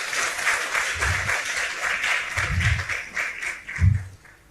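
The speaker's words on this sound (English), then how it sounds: "Ladies and gentlemen, let us give them another round of applause." A room full of people applauds newly posted Ghanaian diplomats with sustained, even clapping, and a few heavier low thumps mix into the crowd's applause.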